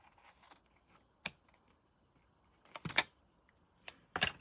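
Scissors snip in a few sharp, quiet clicks spaced apart, trimming a handmade embellishment in a quiet room, the last cuts coming in a quick pair.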